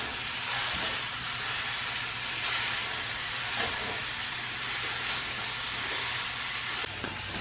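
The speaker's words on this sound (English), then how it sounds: "we're going to cook the beef until it's no longer pink" A pound of ground beef fries in a pan with a steady, loud, close sizzle and hiss that runs on without a break.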